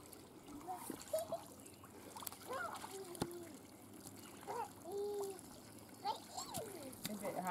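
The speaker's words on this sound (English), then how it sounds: "Side yard splash pad." Water splashing and trickling at a side yard splash pad, with light intermittent splatters and children's voices and adult chatter mixed over the running water.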